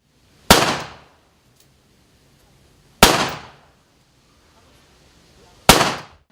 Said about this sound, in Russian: традиционный турнир по стрельбе из пистолета Макарова накануне празднования Дня уголовного розыска